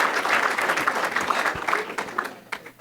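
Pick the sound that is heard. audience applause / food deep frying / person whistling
audience applause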